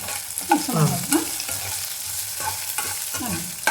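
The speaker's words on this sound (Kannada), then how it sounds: "ಇವು ಇದ್ರಾಗೆ ಹಿಂಗೆ ಹುರ್ಕೊಳ್ಳೋದು. ಜಾಸ್ತಿ ಏನಿಲ್ಲ, ಸ್ವಲ್ಪ ಹುರ್ಕೊಳ್ಬೇಕು." Ingredients for ridge gourd chutney roast in a little oil, a close sizzle broken by repeated spatula scrapes and stirring knocks in an uneven rhythm, with no talking.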